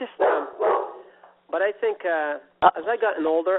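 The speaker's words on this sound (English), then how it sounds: "Oh, that's my dog." A pet dog barks briefly and sharply in the background of an indoor interview with a musician, the bark cutting in once over steady conversational speech.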